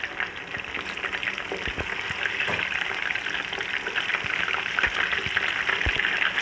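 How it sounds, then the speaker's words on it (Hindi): Chicken pieces frying in leftover hot oil for degi aloo chicken, a dense close sizzle with steady crackling and occasional stirring knocks, no voices. "उसी तेल में मैं चिकन डाल दूँगी"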